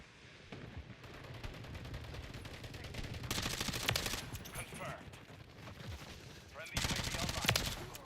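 STG assault rifle firing in Black Ops 6 multiplayer, rapid automatic bursts with loud sharp volleys building near the end and other gunfire mixed in, heavy and dense.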